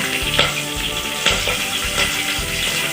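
Garlic, ginger and curry leaves sizzle loudly in hot oil in a frying pan for a mushroom curry, a steady close crackle broken by a few sharper pops as the pan is stirred.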